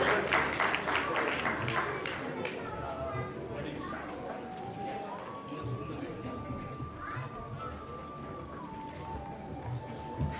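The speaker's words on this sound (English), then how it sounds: "Give her a big round of applause." Audience applause in a hall after a child's recitation at an Utkal Divas community celebration, steady broadband clapping throughout with a voice speaking over it.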